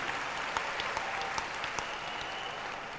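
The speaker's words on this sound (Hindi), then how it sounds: "ताली बजाओ इस बच्चे के लिए" An audience at a Hindu religious gathering claps for a boy, a faint, distant, even patter of applause with a few sharper claps standing out.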